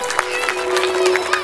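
Audience at a devotional Bhagavat Katha gathering clapping loudly together, a dense continuous wash of applause with a few sharper claps and crowd noise, alongside a steady tone.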